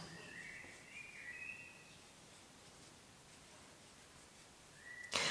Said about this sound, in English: can you hear all of the birds singing in the background?